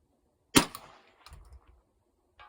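A single sharp .22LR rifle shot cracks close by, followed about a second later by a faint, dull distant thud of a steel target impact at around 300 yards.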